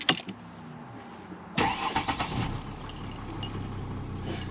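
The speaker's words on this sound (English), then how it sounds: "Let's see if anything happens when we go to switch the car on." A Mercedes C350 CDI W204 with the OM642 diesel engine is started after an MAF sensor replacement: first a few clicks and a key rattle, then the starter cranks briefly and the engine catches and settles into a steady, close idle.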